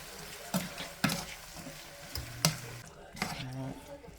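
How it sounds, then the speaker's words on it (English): Ground meat with taco seasoning and canned tomatoes gets stirred in a pan, a quiet sizzle under a handful of distinct scraping and tapping strokes from a utensil. "Let me mix that around a little bit real quick."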